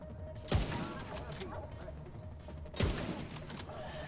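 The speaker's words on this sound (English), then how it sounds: "shot her belt. She was carrying explosives. So it auto-triggered the explosion and killed her with just that one shot." Two sharp gunshots about two seconds apart in The Division 2 shooter game, each with a loud blast-like burst and rumbling tail over steady background game ambience.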